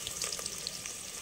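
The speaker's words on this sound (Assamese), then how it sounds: "এতিয়া মই তেল দিছো দি পেলাই পিয়াজ দিছো বনাবৰ কাৰণে" Onions fry in hot oil for a black urad dal, a continuous close sizzle dotted with small crackles and pops over a brief moment, with no voices.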